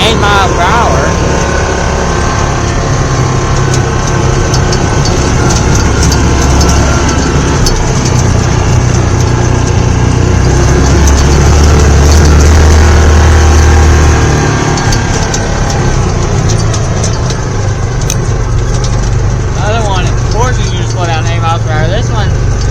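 A side-by-side utility vehicle without power steering drones loudly and continuously as it climbs a hill, the engine steady and close, with people talking over it.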